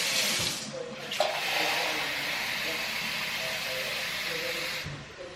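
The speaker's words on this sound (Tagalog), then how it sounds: "And then, maka-add tayo ng malamig na tubig." Cold water runs steadily from a kitchen tap into a pot for a chicken-cube broth, a broad continuous splashing hiss that starts and stops cleanly, close and fairly loud.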